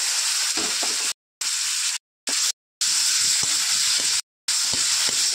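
Loud, steady hiss of food frying in a hot pan, broken by several brief silent gaps, with occasional soft stirring knocks.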